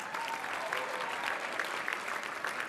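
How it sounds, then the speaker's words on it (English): A crowd applauds an executive director at a women's bar association installation ceremony, continuous even clapping filling the room, with a few brighter claps standing out near the front. "Please give her a big round of applause."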